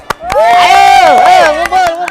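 Hand claps meant to call sparrows in an outdoor spot land as a few sharp, separate cracks near the start and end, around a loud, sustained voice call in the middle.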